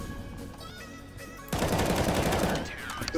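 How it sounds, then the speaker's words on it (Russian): Gunfire in a multiplayer video game, shots fired through a wall, with a sudden loud sustained burst of rapid automatic fire after a quieter stretch of game sound. "я тоже через стену умею стрелять"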